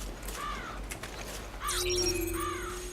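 In a Resident Evil video game, crows caw a few times in bursts over a steady low ambient rumble, with a sustained tonal drone partway through and no talking.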